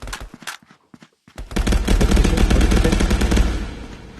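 Rapid automatic gunfire from several weapons in the VR shooter Contractors VR during a team match on a factory map, a few scattered shots first, then a dense, loud continuous burst of overlapping fire.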